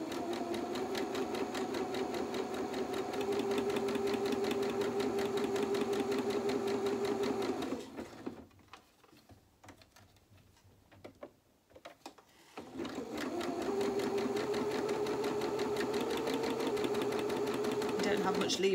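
A sewing machine runs close and loud, stitching fabric for small doll knickers in a fast, even mechanical hum. It pauses for a few seconds of near silence, then resumes at the same steady pace.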